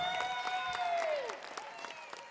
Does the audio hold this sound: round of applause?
yes